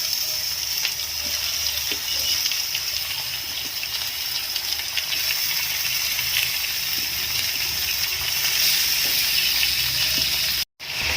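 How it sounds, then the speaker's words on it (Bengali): Chicken pieces frying with half-browned onions in a pan give a steady, close, continuous sizzle that holds evenly throughout, broken only by one brief cut near the end. "এবার চিকেনগুলো এর মধ্যে দিয়ে ভালো করে ভেজে নেব।"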